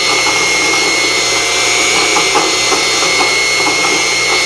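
A small Unimat SL1000 lathe running at 1100 RPM machines rebar with a high-speed steel tool, producing a loud, steady motor whine with scraping cutting noise up close.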